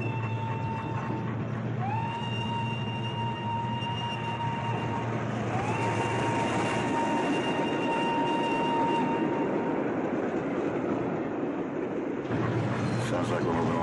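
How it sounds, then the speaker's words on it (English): A train rolls steadily along with a constant low rumble, while long drawn-out squealing tones rise and hold over it, then the rumble shifts near the end. "Sounds like we're moving along with the train."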